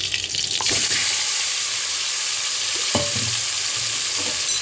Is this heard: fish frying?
yes